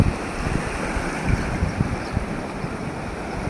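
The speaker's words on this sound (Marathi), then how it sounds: "आता भरती पण वाढत चालली आहे" Sea waves wash onto the rocky shore at Kunkeshwar on the Konkan coast as the tide rises, a steady rushing surf with soft rolling breaks and wind buffeting the microphone, with no voices.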